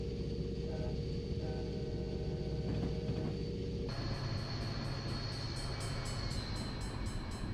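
A train rolls past in a driving video game set around Miami, a steady loud rumbling drone layered with tonal hums that shift abruptly partway through, with no talking.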